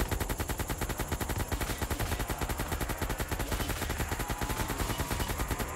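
Steady automatic AK rifle fire in the video game Call of Duty Zombies, a rapid, evenly spaced stream of sharp shots, continuous and moderately loud throughout with no pauses.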